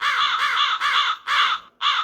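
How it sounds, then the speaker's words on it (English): A hooded crow caws loudly and close, four harsh, raspy calls in quick succession with short gaps between them. "Hooded crow. Hooded crow."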